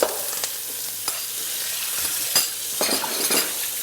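Raw smoked bacon and chopped button mushrooms frying in a pot, a steady loud sizzle with occasional clinks and scrapes of a utensil stirring, no voices.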